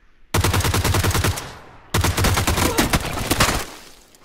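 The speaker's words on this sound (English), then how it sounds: "Sounds like he's only got a vector." Rapid automatic fire from a Vector submachine gun in the video game PUBG on PS4, two loud sustained bursts of dense, fast shots separated by a short pause, with no talk over them.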